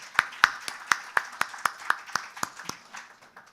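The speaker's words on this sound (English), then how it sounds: "A huge round of applause, ladies and gentlemen." Scattered applause at the close of a conference side event session: a dozen or so distinct, evenly spaced claps, fairly close and crisp, thinning out toward the end, with no talking over them.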